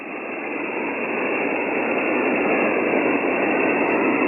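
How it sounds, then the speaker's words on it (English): Constant loud radio static hisses from an Icom ham radio receiver on HF, a dense steady band of noise that swells slightly and then holds level with no voices. "Man, I got a solid, basically an S7 noise."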